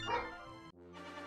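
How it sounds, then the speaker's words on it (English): A pet dog barks in the room during a video game session, with one loud bark burst near the start followed by a second yelping sound, close and clear. "No barking, Daisy!"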